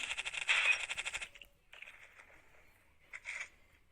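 A video game weapon fires in a rapid rhythmic burst, then fainter shots and rattles follow, fairly quiet with no talk.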